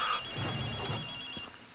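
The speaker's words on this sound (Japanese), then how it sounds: "あ、電話が鳴ってるよ。" A telephone rings in the video game Ghostwire: Tokyo, a steady electronic ring with high tonal lines and a low hum underneath, sounding alone for under two seconds.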